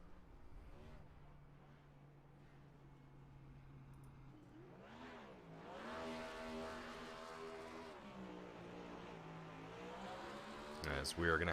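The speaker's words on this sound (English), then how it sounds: "we are going to have Justin McMahon doing celebratory burnouts" A Next Gen Cup stock car in a Doghouse Racing League sim race at Iowa does celebratory burnouts, its engine droning steadily and then revving in rising, wavering surges, with faint voices in the background.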